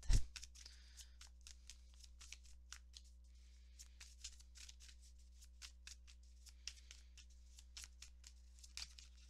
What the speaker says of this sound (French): Alors, allons sortir maintenant les cartes.